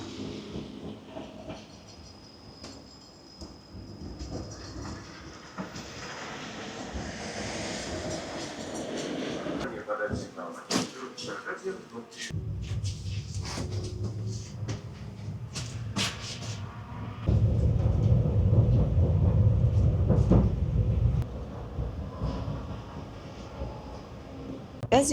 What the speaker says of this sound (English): I took a tram with panoramic windows for 70 rubles.